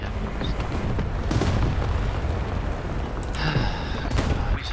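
Tank battle in War Thunder, Type 69-IIG on the Sinai map: steady loud rumble of gunfire and cannon booms with sharp reports, continuous throughout.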